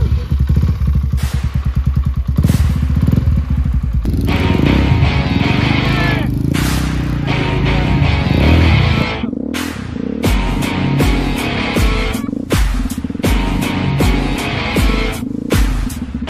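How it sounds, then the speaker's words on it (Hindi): A quad bike engine runs loud and close, its steady rumble broken by revs, clatter and thumps as the ride goes on. "इसे स्क्वाड बाइक बोलते हैं"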